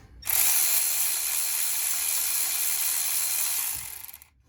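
Powered ratchet turning a 14 mm bolt on the alternator of a 2008 Hyundai Veracruz V6, a single close, loud, steady buzzing run of about three and a half seconds that winds down at the end.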